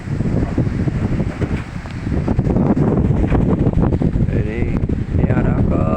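Very strong wind in Sampang, roaring loudly and continuously against the microphone with rough gusty buffeting and rustling for several seconds, with no clear voice over it.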